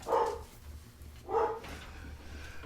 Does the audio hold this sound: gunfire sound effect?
no